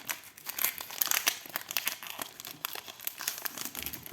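Foil booster pack wrapper of Pokémon trading cards being torn open, with steady close crinkling and crackling plus a few sharper rips, no talking.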